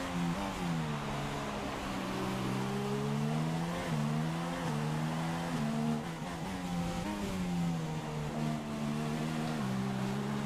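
An F1 2016 race car in a video game at the Hungarian Grand Prix in Budapest, its engine droning loud and steady, pitch sweeping up through gears with brief dips on shifts, constant and close throughout.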